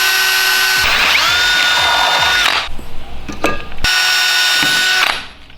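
A power drill with a half-inch bit whines at high speed as it bores into metal for a headlight mounting tab repair, stops briefly with some clatter, then runs again steadily before winding down.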